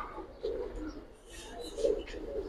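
Two military pigeons, a yellowish jorda-coloured pair kept in a loft, coo in a few soft, rounded bursts with quiet gaps between them, nearby and moderate in level, with faint background noise.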